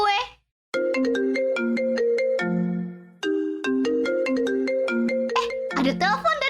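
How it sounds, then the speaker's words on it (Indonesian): A phone ringtone plays a bright melodic tune of repeating tonal notes, loud and close, announcing an incoming call, with a brief pause near the start and a denser burst of notes at the end. "Ada telepon dari Gavin."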